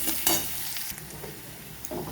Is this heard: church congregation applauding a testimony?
no